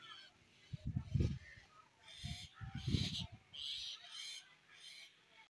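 Crows perched on a village rooftop pecking at roti scraps, with a few rough caws nearby amid low broadband rumbles and a voice in the background.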